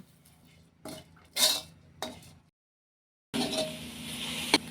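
Clattering of a utensil against a pan while pork is stir-fried with a pounded spice paste, a few sharp clanks and scrapes, a brief silence, then a louder steady sizzle with a final knock.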